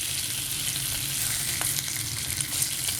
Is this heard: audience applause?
no